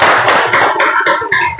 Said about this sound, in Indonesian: Tepuk tangan sekali lagi deh.